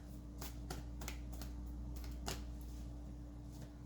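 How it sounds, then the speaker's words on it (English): A tarot deck is shuffled in a series of quick crisp riffles and snaps, close and fairly quiet, over a steady low hum. "So I'm going to go ahead and shuffle the deck."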